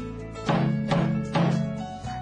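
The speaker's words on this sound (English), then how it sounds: "Sounds like a drum to me" Three resonant drum strokes, each a deep booming hit with a lingering ring, evenly spaced and played close.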